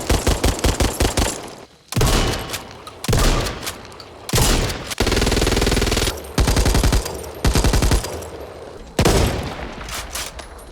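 Weapons firing in the video game Back 4 Blood: loud rapid bursts of automatic gunfire, separated by short pauses, with some single heavier shots, close and alone without talk.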